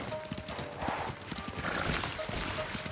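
A horse's hooves clip-clop in a quick steady rhythm while riding in the video game Ghost of Tsushima, a brief whinny rising partway through, with soft game ambience around it.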